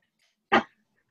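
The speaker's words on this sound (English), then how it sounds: "I'm at home with my dog, so she may end up barking or something." A pet dog at home gives one short, sharp bark, close and fairly loud, alone in an otherwise quiet room.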